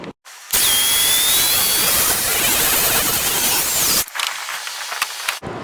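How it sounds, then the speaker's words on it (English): Wind buffeting a microphone outdoors on a breezy day at a flats skiff build, a loud steady roaring rush that drops off sharply, then returns as a lighter gusty rumble. "You're going to get some wind noise. It's a little bit breezy today."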